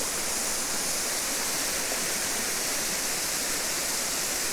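River water flows steadily in Roe Valley Country Park, a continuous close rushing hiss with no break.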